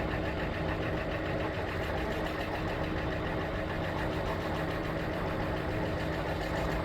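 A Bird rental electric scooter with a fault gives off a rough, steady rumbling drone like a diesel truck, constant and fairly close with no talking over it.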